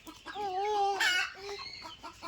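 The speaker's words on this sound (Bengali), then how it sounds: "মুরগি দেখো কক কক কক করছে" A hen clucks close by in a short run of rising and falling calls, loud and clear, with no talking over it.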